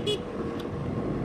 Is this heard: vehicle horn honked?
yes